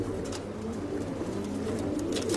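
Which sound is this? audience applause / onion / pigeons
pigeons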